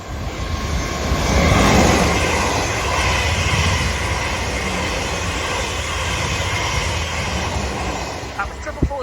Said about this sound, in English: Passing through now is a South Western Railway service from London Waterloo to Weymouth and